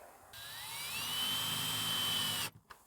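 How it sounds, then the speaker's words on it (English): Short screws being driven into a wall to hold a wire clamp around a pipe, heard as a single high, rising motor whine from a driver, close and steady for about two seconds before cutting off. "So just wind the wire around the pipe, twist it around, and screw it to the wall."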